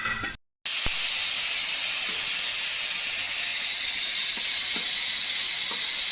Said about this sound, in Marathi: दुसरीकडे कुकरची शिट्टी होती